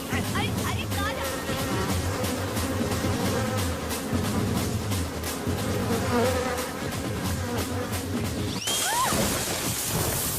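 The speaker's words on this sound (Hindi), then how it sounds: "ये मक्खी नहीं मधुमक्खी है।" A honeybee buzzing close by with a steady, continuous drone, joined near the end by a burst of louder, rougher noise.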